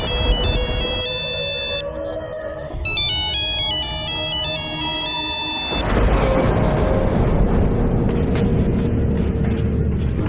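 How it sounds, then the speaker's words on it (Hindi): An incoming call rings on a phone as a melodic electronic ringtone repeats in short tonal phrases for about six seconds, then gives way to a loud, dramatic rumbling crash. "तभी उसे राजू के उसी फोन पर एक कॉल आती है"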